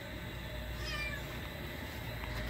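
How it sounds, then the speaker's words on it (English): A cat meows once, a short faint cry rising above steady background noise in a garage workshop where an Audi is being modified. "You found a cat?"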